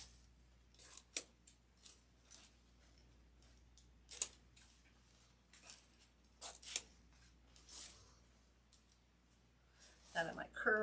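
Scissors snipping floral stems while trimming a pink and green tobacco basket wreath, a series of short, close crisp snips with quiet gaps, with a person speaking at times and a brief rustle near the end.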